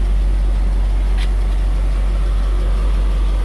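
A 2003 GMC box truck's engine idles with a loud, steady low rumble that holds even and unbroken throughout, close up, with no voices over it.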